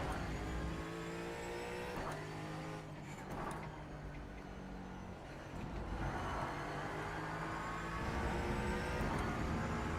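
A Ford Mustang GT4 race car engine in the iRacing sim at Laguna Seca, revving continuously with rising and falling pitch through gear changes, loud and close throughout.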